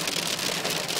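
Hail from a massive storm pelts a car during a storm chase in East Yorkshire, a dense, steady roar of rattling impacts close by, with no talk.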